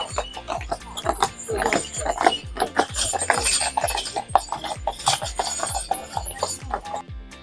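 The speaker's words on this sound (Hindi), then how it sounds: "भाई साहब, पहाड़ों के बर्फीले घोड़े की साइज तो देखिए एक बार" A large mountain horse walks through snow near Neuschwanstein in Germany, its hooves striking in a steady, close clip-clop rhythm that runs without a break.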